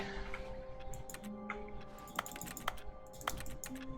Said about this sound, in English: That's keyboard sounds, but I'm not at my keyboard.